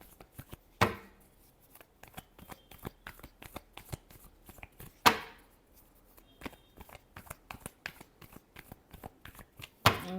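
Tarot cards are shuffled in rapid riffling bursts, close and crisp, with a few sharper slaps standing out among the quick repeated flicks and no talking.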